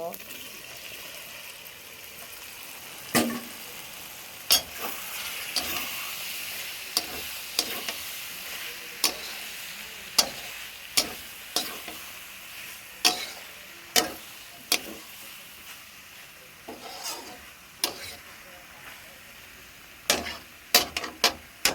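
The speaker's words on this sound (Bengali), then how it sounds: "2 মিনিটের মতো ভালোভাবে কষিয়ে নেব" Boiled kathal potatoes being sautéed with spices in a pan, giving a steady low sizzle broken by repeated sharp scraping and tapping of a spoon against the pan at an irregular pace, fairly close.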